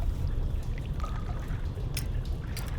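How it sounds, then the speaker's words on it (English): Water surging up and draining away in a flooded sewer in the Penumbra horror game, heard as a steady, full rushing and pouring wash that runs throughout without any voices. "After that, the water rises and falls in an instant."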